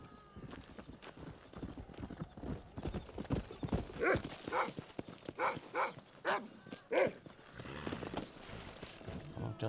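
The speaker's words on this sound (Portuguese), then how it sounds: "Vem, cavalinho." Rhythmic clip-clop of horse hooves in Red Dead Redemption, steady trotting beats close up, with a brief whinny and a dog barking in the background.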